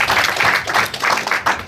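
Comedy club audience applauding in a steady dense wash of clapping, loud and close, filling the whole moment without a break.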